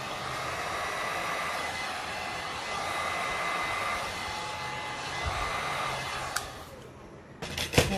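A heat gun or hair dryer warms poured resin in a coaster mold for a dragon-scale effect, giving a steady, close blowing roar for about six seconds before it cuts off, followed by a few small clicks and handling sounds.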